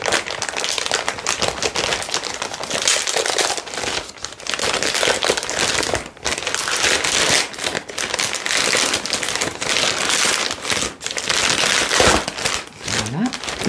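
A package being opened close up, with dense continuous crinkling and crumpling of wrapping and paper across the whole span, broken by a few brief pauses and some faint speech.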